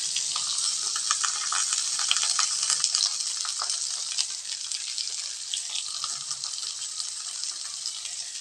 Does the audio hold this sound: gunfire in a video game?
no